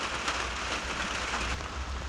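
Steady rain falls outdoors in a garden, an even hiss of drops that stays constant and fairly soft for the whole short stretch.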